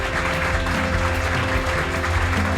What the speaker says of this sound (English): Everybody, let's give them a round of applause.